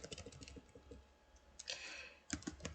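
Typing on a smartphone's on-screen keyboard produces quick, irregular soft clicks in close, faint bursts, with short pauses between runs of taps.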